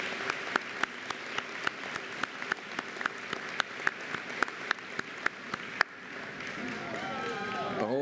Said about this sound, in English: let's just give them a round of applause because they're tremendous